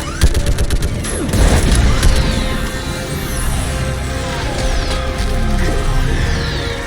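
Orbital strike explosions in Mass Effect 3 Legendary Edition pound loudly, with heavy booms, rattling debris and gunfire-like crackles over a sustained roar, and sweeping whooshes trailing after the impacts.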